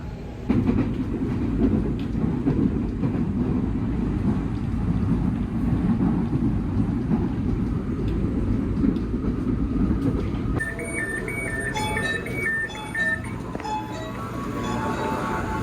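Steady rumbling inside the third car of a moving Indonesian commuter train bound for Bogor, a continuous low roar with rattling, joined near the end by a series of electronic chime tones.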